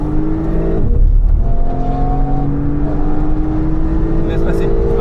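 Race car engine at a club track session, droning steadily with shifting pitch as a car passes nearby, an onboard whir under the roar and a faint chirp near the end.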